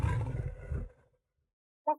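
A tiger kept inside a Harlem project apartment lets out a deep, rumbling roar lasting about a second. Silence follows, then a brief faint sound at the end.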